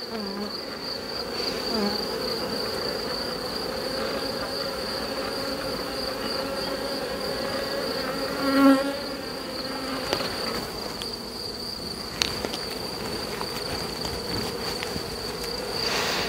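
A honeybee swarm with a young virgin queen hums steadily from an open hive spread across several frames, a dense, continuous close buzz with occasional louder passes of single bees near the listener.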